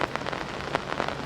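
Rain pattering onto surfaces outdoors on a disc golf course, an even, close hiss of falling water with distinct drops tapping irregularly over it, no voices.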